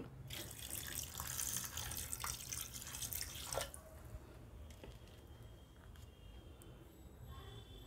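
Water pours from a tap onto boneless chicken in a pot for vegetable soup, a strong splashing stream for several seconds that stops, leaving faint drips and small kitchen clatter.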